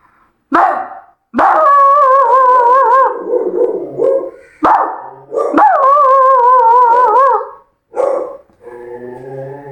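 A performer at a mimicry show imitates a dog by voice, producing loud, close bursts of barking and drawn-out wavering howls in several separate rounds with short gaps between them.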